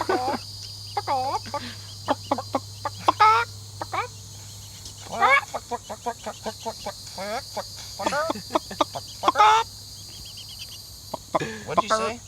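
Chickens settling down to roost make soft, repeated short clucks and chirpy murmurs in irregular clusters over a faint steady background tone, close by and moderately quiet.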